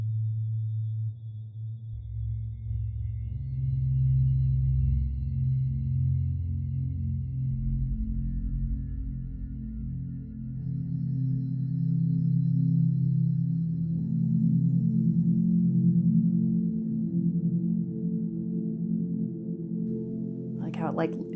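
A rising textural effect from the Sol stellar effects engine swells in layered low tones that climb and shift upward over about twenty seconds, loud and sustained, with a bright burst near the end.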